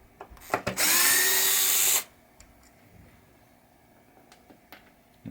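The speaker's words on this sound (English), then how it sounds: "Let's get my screwdriver and we'll get these screws out." A power screwdriver gives one loud, close whirring burst while removing screws from a 1973 Williams pinball clock unit, followed by soft clicks and handling noises.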